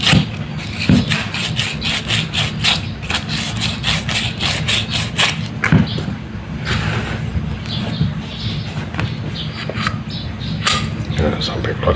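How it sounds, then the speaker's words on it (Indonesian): Sandpaper rubbing back and forth on the stuck metal shaft of a Cosmos electric fan, rapid rhythmic rasping strokes close up, with a voice speaking over it. "kita amplas lagi"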